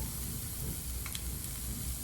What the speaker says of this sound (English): we're gonna add a little slivered garlic.